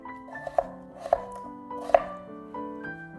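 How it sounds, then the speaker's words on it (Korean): A knife slices a potato thinly lengthwise on a cutting board while making kalguksu, with three crisp, distinct cuts over soft tonal background music. "감자 한 개는 길이대로 1cm 넓이의 크기로 얇게 써세요."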